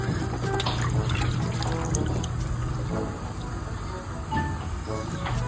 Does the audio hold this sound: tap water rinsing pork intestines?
yes